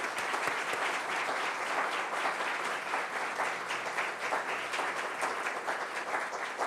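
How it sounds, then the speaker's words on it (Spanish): A crowd claps in steady, dense applause that fills the hall for several seconds, evenly sustained and fairly loud, with no voices on top. "Un aplauso para todos ellos."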